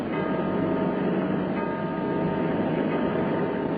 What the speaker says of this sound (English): There's that alarm gong again.